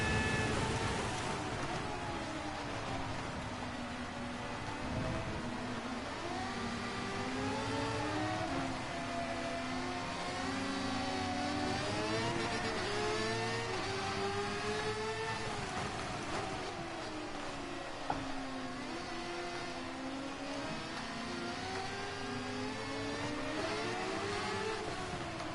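Race car engines in the Gran Turismo video game scream through the gears around the Spa circuit, a continuous loud whine rising and falling with shifts and corners while rival cars drone close behind.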